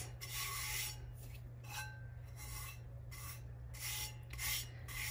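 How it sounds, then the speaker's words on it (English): Excess color shift glitter being wiped off a surface, a quiet rhythmic rubbing and rasping of repeated strokes over a low steady hum. "Wipe off all the excess."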